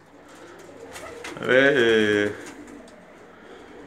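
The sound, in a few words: Bulgarian pigeons cooing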